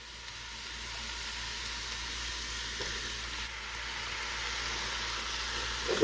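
Mushrooms sizzle steadily in a hot pan over medium-high heat while a meaty spaghetti sauce is being made, giving an even broadband frying hiss that holds throughout with no talk.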